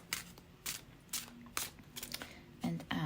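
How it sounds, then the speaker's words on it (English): An oracle card deck is shuffled for a reading, giving a series of short papery riffles and crisp snaps in separate bursts, close and moderately loud, with a few soft clicks between them. "now let's shuffle with intention"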